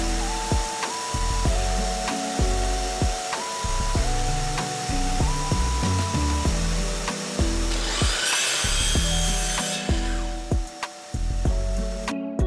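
Power saw cutting a high-density 3/4 inch plywood back apron for a bathroom vanity, with repeated bursts of motor whine, rising and falling, a rough rasping cut near the end, and no talking.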